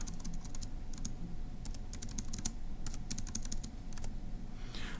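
Typing on a computer keyboard, with quick bursts of light key clicks in irregular runs and brief pauses, close and fairly quiet with no talk.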